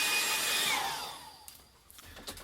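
A hair dryer whirs loudly, its pitch sliding downward as it shuts off and winds down, followed by a few soft taps.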